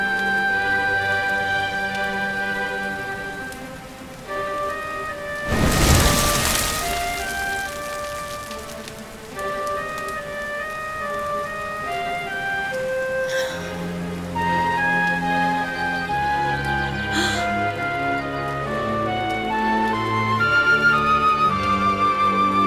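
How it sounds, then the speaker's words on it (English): Steady rainfall in the video game Dragon Quest XI patters softly beneath melodic orchestral game music, with one brief louder splash-like burst partway through and no talking. "Looks like the rain's dying down."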